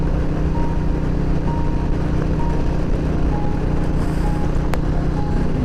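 A truck on a road gives a steady, low engine rumble that holds at the same level from start to finish, with no clear build or fade of a pass-by and no voices.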